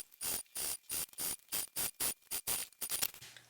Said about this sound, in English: So I'll start sewing back stitch, and the entire time I'm sewing, I'll be pulling and compressing.